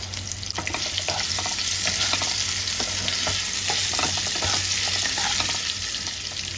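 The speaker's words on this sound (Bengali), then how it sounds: "এবার এর মধ্যে কেটে রাখা আলুটা দিয়ে দিলাম আলু ভাজার মধ্যে একটু লবণ দিয়ে দিলাম" Loud continuous sizzling of salted cut potatoes frying in hot oil, with occasional crackles and pops close up, no voices.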